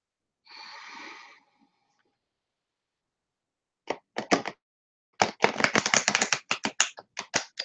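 Cards are riffled and snapped together in quick bursts of crisp clicks after a brief breathy rustle, with pauses between bursts.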